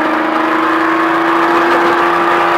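An off-road Baja truck's engine roars steadily as the driver accelerates on a track, with a strong, continuous drone that holds loud and close throughout.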